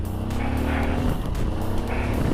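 A Kawasaki D-Tracker 150 supermoto motorcycle engine revs steadily on a test ride, a close, continuous buzzing drone with slight rises in pitch and no talk.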